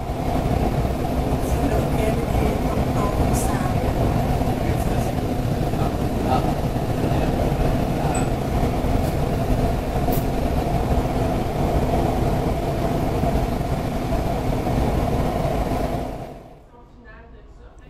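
A Montreal REM metro train runs past rail yards with a steady, loud rolling hum and rumble, with faint high squeaks on top, before the noise drops off sharply near the end.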